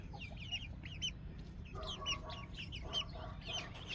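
Homestead hens in an enclosure cluck and chatter in quick, overlapping calls, moderately near, over a steady low background hum.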